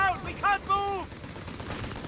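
Bursts of gunfire in the World War II strategy game Company of Heroes 3, several sharp shots in the first second followed by a rumbling tail of distant battle noise.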